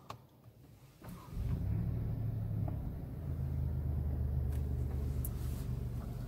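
An Alfa Romeo Giulia Quadrifoglio, a 510-horsepower Italian saloon, fires up and pulls away, its engine settling into a loud, steady low rumble that holds close and continuous with no voices.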